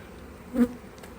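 Honeybees buzzing at an opened hive during an inspection, a soft steady hum with one bee passing close in a brief louder drone.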